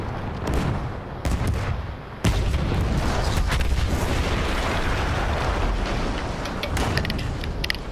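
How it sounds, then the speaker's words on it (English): A massive explosion in the World War I shooter Battlefield 1 erupts with a deep booming blast followed by sustained rumbling, crackling debris and gunfire-like bursts, loud and close throughout. "That explosion was one of the sweetest sights of the war for me"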